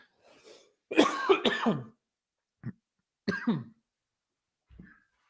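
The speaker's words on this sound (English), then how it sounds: "had a coughing fit, and now he's gone" A close, loud coughing fit, several rough hacking coughs in a cluster, then a few isolated softer coughs spaced apart in quiet.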